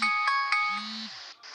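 A phone alarm ringtone plays alone, a bright, clean electronic melody of repeated tones lasting over a second, fairly close and moderately loud in an otherwise quiet room.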